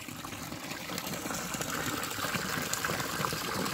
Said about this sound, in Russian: Эта вода течет из святого источника